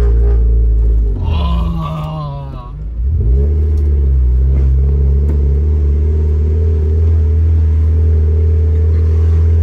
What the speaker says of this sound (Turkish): Böyle yavaş yavaş yükseliyor ya devir.